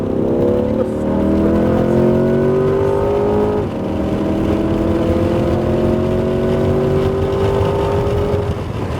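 A Corvette C8 Z51 accelerates hard around Homestead Miami Speedway, its engine note rising through the gears with a shift midway, loud and close from inside the car, with an instructor speaking over it.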